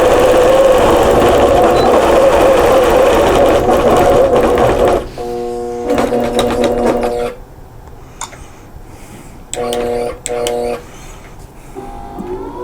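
APQS longarm quilting machine stitching fabric face masks with elastic, a loud rapid needle chatter running steadily, then stopping and restarting in short bursts with a whirring motor, as a person talks between runs.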